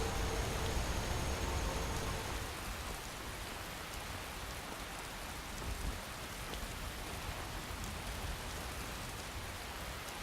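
Steady rain falls in the game Skyrim, a dense, even hiss of drops with a low rumble that eases slightly after the first couple of seconds, with no voices.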